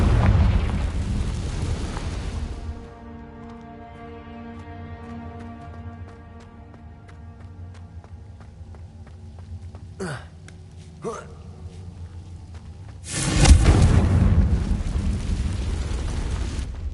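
A Confringo blasting spell explodes in Hogwarts Legacy on PS5, with a loud burst and rumble at the start, tonal game music and a couple of sharp effects in the middle, then a second loud blast near the end.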